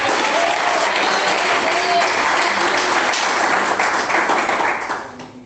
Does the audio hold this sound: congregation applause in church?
yes